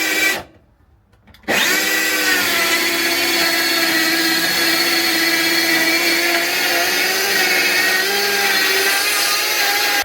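A power tool cutting plywood inside a van, starting with a short pause before a steady, loud, continuous whine that holds through to the end.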